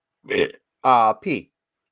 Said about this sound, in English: burp. What's that?